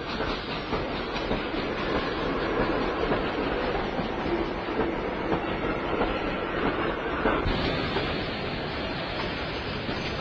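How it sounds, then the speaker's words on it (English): A freight train carrying food and equipment to Jerusalem rolls past nearby, with loud continuous rumbling and clickety-clack wheel noise and faint squeals, no voices. "This train doesn't use much space for passengers."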